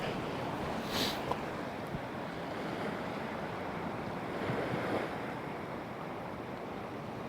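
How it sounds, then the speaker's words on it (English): Sea waves wash continuously along a rough-ground Northumberland shoreline as the tide races out over kelp, a steady broadband surf roar mixed with wind buffeting, no voices. "The sea has dropped even in the last 45 minutes"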